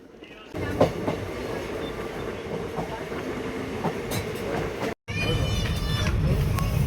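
The Sealdah Jangipur Express runs on its rails with a continuous heavy rumble and rattle heard from on board, broken by one brief near-silent dropout, while voices talk over the noise.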